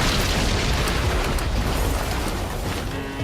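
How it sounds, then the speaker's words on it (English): An industrial dryer explodes catastrophically after its internal temperature and pressure spike, heard as a sustained, loud, dense broadband roar with a rumbling low end that barely eases over three seconds. "Within minutes, the dryer catastrophically exploded."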